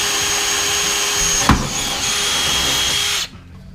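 Power drill boring through a Landcruiser 79 bull bar, lubricated with CRC spray, a loud steady close-up whine with one sharp catch midway before the motor cuts off near the end.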